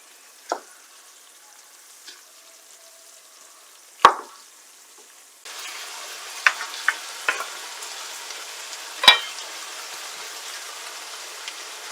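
Minced meat fries in a pan for karnıyarık, stuffed eggplant. A few scattered faint clicks come first, then a steady close sizzle with occasional louder pops.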